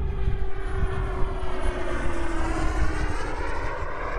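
An Aviation Design Diamond model jet turbine drones steadily on its maiden flight, a loud continuous whine with a faint shifting tone over a rumbling low roar, with no talking.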